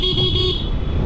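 A vehicle horn gives one short, steady toot lasting about half a second over a continuous low engine rumble outdoors, with no talking.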